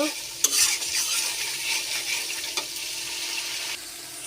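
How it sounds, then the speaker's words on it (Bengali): Potatoes are stirred into tomato paste in a hot pan, sizzling and scraping up close. Steady frying crackle runs throughout, with a louder scrape near the start. "আলুগুলো নাড়াচাড়া নাড়াচাড়া করে একটু ঢেকে দিব"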